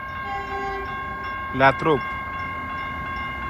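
A red-and-white Caltrain double-deck commuter train arriving, with a rail horn sounding in two short blasts over a steady background hum, while a voice speaks briefly.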